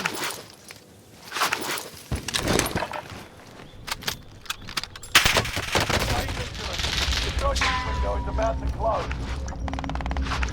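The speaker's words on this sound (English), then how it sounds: "I got shot from my left and from my right." Gunfire in the battle royale shooter Call of Duty Warzone on Fortunes Keep, a mix of bursts and single shots with footsteps and gear rattle, loud and busy throughout, with heavier firing in the second half.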